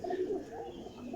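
Pigeons offered for sale, including black-faced Sialkoti birds caught in a storm, coo softly and steadily in a close, continuous murmur with no talk.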